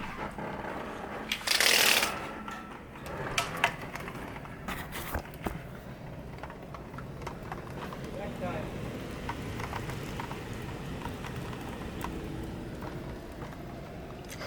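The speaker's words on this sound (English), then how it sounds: "I love the sound of rain." Rain falls outside on a wet day as a steady hiss of drops, with a few sharp close taps and scuffs over it.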